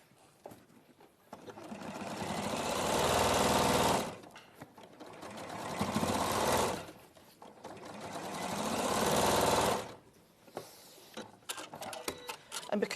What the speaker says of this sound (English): take it to the machine, and then sew them together for a basic 4-patch